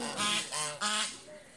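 Domestic geese give several loud, close honks in quick succession, a run of nasal calls over about a second, then fading to quieter background.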